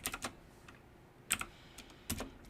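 Quick bursts of keystrokes on a computer keyboard, clustered clicks at the start, middle and end separated by quiet pauses, close and fairly crisp.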